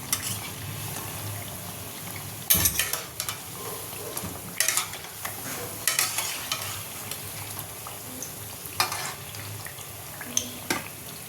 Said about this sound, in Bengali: একসঙ্গে তিনটে করে ভাজছি বেশ তাড়াতাড়ি হয়ে যাচ্ছে